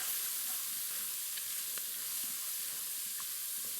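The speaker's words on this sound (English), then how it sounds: "just start to fry them off" Red bell and hot banana peppers frying in a pan, a close, steady hissing sizzle with occasional faint stirring clicks, no voices.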